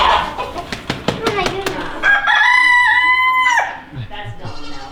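A rooster crows loudly and close by, a long drawn-out call after a series of sharp clucks and clicks, followed by quieter fowl sounds, with people talking nearby.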